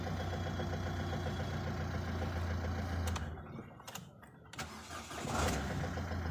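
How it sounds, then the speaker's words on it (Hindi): A Ford Figo that would not start, repaired after a rat chewed through its ground wire, cranks with a short starter whir and its engine catches, then settles into a steady idle close by. "ये गाड़ी स्टार्ट।"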